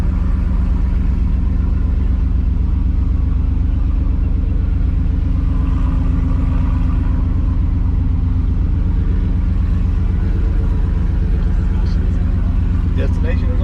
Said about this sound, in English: I know y'all tired of hearing this truck because I am.